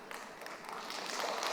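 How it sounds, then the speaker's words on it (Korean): Congregation applauding a pastor during a Korean church sermon, a soft steady patter of many hands that swells slightly toward the end, fairly distant and alone without talk. "뭐 박수까지 치시고."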